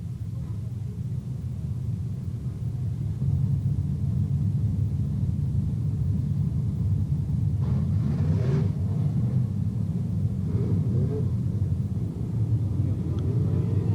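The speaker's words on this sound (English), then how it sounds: "22 cars starting, 20 laps to distance, and there's a wave of the green flag." Race cars on the Putnam County Speedway dirt track in 1992 give a steady, distant rumbling engine roar throughout, a continuous low drone without clear individual passes.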